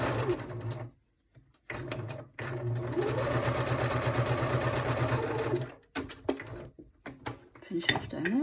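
A sewing machine runs in steady close bursts while stitching fabric for a shabby chic cover, stopping and starting between runs, with brief pauses and some faint talk.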